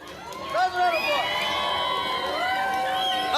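Cheering, whooping and crowd shouts from a live audience saluting a band, a steady loud roar of voices throughout with rising and falling whoops, more yelling than clapping.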